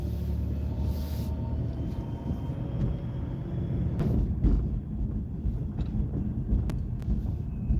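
A car pulling away and gently accelerating on a road, heard from inside as a steady low engine and road rumble with some wind buffeting, fairly loud and continuous with no talk.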